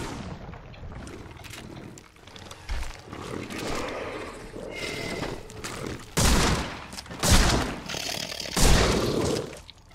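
Gunfire from a weapon in the video game The Sinking City, a few heavy booming shots spaced out over a rumbling, noisy game background, fairly close and punchy.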